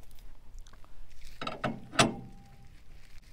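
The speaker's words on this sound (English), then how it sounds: "Now that the air is out, I'm going to take the lug nuts off." Lug nuts being loosened from a Ford Model car's spare wheel, a faint ratcheting with a couple of sharp metallic clicks and a ringing clank close by.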